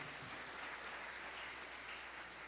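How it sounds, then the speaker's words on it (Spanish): Church congregation applauds in a dense, continuous wash of clapping that sounds fairly distant and even, filling the room without any speech on top. "Dele un aplauso a la palabra de Dios."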